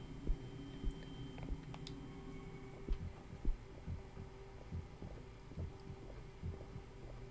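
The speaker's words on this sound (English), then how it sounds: "Where's my heartbeat going?" Low thumping heartbeat effect from the horror video game Song of Horror, a steady muffled throb pulsing under a droning ambient hum, with a few faint clicks scattered above.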